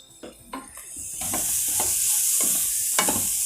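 Grated carrot being sautéed in a hot pan: repeated scraping stirs over a sizzle that swells and stays steady, close and fairly loud, with no talking.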